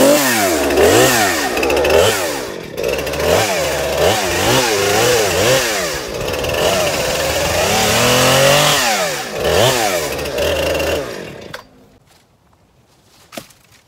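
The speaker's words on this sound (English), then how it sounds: "So let me get the chainsaw out, free it up a little bit" A chainsaw revs up and down repeatedly as it cuts through wood, loud and close, then cuts off into near silence with a faint knock.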